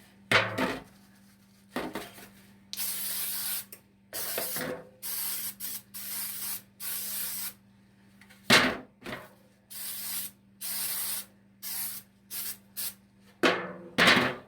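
Bursts of Baker's Joy baking spray hiss out onto a pan one after another, some long and some short, with brief gaps and faint clinks between them.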